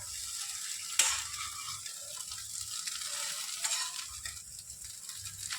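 Chow mein is stirred in a pan on a gas stove just switched off, a steady soft sizzle and scraping stir running close by, with a sharp metallic clack near the start and another fainter one later.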